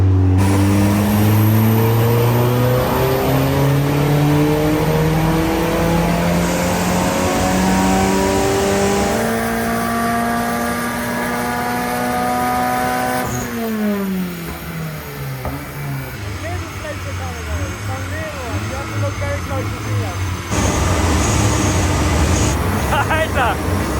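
A Mitsubishi Evo 6 with a stock engine revs hard on a dyno, rising through long sweeping pulls with a brief lift and gear change midway, loud and close, with voices talking over it.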